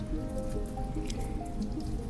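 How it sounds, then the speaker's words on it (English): Melting snow drips steadily outdoors in winter, a dense, close patter of small wet drops running without pause. "the dripping of all the melting snow."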